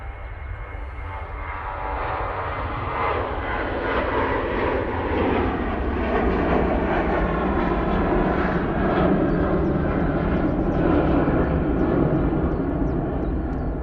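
A fixed-wing airliner departing Manchester Airport for London starts its takeoff roll from a runway intersection in low visibility, its engine roar swelling steadily and staying loud and broad throughout.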